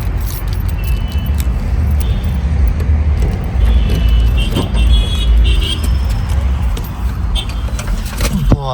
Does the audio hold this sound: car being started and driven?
yes